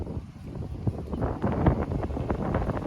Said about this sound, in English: Yes, it's a windy day. It's fairly windy.